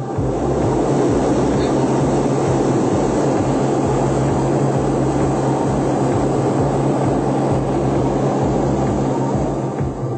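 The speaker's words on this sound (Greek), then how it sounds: "Το δεύτερο αεροσκάφος ύστερα από λίγη ώρα μας αφήνει να συνεχίσουμε την πτήση με τον δικό του χαρακτηριστικό τρόπο" Loud, steady engine drone of an aircraft, a constant throbbing roar that holds throughout without fading.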